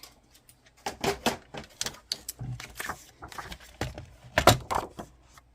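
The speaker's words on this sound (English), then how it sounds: "So we're just going to cut that off first. Grab my paper trimmer." A paper trimmer cuts cardstock for a handmade tunnel-fold card, giving close, irregular clicks and short sliding rasps, with a sharper burst of cutting toward the end.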